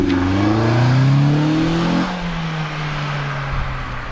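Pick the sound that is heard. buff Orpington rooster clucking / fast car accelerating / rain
fast car accelerating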